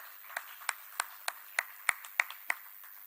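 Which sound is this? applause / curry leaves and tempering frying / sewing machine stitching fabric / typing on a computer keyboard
applause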